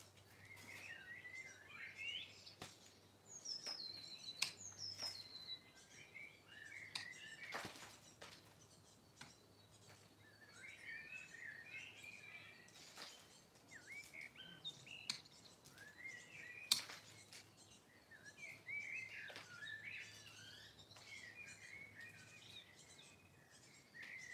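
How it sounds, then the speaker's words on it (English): Several birds chirp and tweet in scattered bursts outdoors, fairly faint and at a distance, with short pauses between calls and a few sharp clicks. "listen to those birds, okay?"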